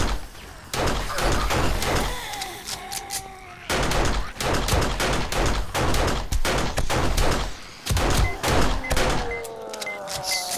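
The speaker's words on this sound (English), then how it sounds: "Let's use the pistol for a bit." Pistol gunfire in the video game 7 Days to Die, dense bursts of loud, close shots in rapid clusters separated by short pauses, with game noise between them.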